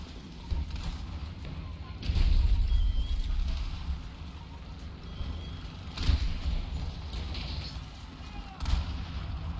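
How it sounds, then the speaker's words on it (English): Tank rolling through a video game battle, a low heavy rumble swelling around two and six seconds, with bursts of gunfire and explosions over constant battlefield noise. "We've got a tank coming through now"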